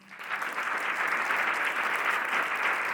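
Audience applause at a talk show taping, a dense, even roar of clapping that swells in within the first moment and holds at full strength to the end.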